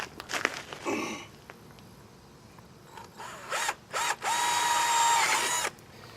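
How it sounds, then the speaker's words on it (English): A power drill whirs in short bursts into the plastic arm of a lawn chair, then runs steadily for a longer stretch, close by, with faint handling noises in between. "So I'm going to drill right between those, right about in the center of the side of the arm."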